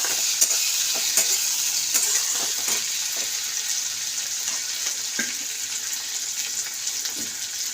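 Tomato, turmeric and chilli powder are stirred into softened onions frying in a pan for an amodi fish curry, giving a steady close sizzle with occasional scraping clicks of a spatula and no talking.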